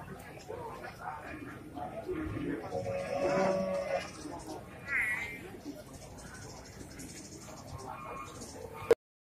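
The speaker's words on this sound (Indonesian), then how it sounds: "Pokoknya ada si kerbau buntung nih, buntung ekor." A male water buffalo with a cut-off tail stands at Pasar Wage Bumiayu livestock market in Brebes; a brief low animal call rises midway through busy market murmur, with people talking throughout.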